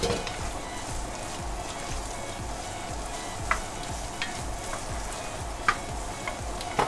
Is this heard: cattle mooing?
no